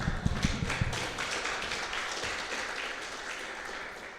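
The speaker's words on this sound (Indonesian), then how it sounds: "Oke, bagus, tepuk tangan dong." Applause from an audience at an Indonesian business seminar, a dense wash of clapping with a few louder nearby claps at first, holding steady and then easing off slightly.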